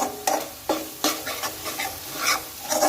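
Coriander-cumin powder, chili powder and turmeric being stirred into hot oil, a constant sizzle cut by several sharp scraping strokes of the spoon at irregular intervals, close up.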